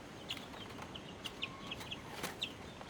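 Asil chickens and chicks in a quail coop, giving faint, scattered short clucks and chirps over a low background hum, with no talking.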